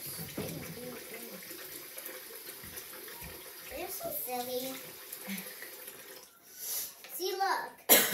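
Water runs from a tap with a steady splashing rush while filling a Magic Mixies toy cauldron, and a voice talks over it before a louder gush near the end.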